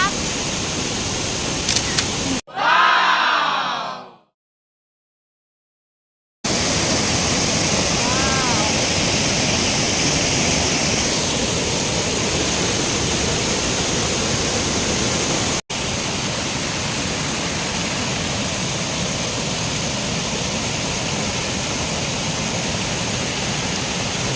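A waterfall in Chet Khot National Park, Saraburi, Thailand, gives a constant, dense hiss of falling water. It begins after a short burst of handling noise and a moment of silence, and there is a faint click partway through.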